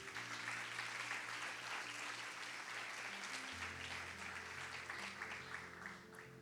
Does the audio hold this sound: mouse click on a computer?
no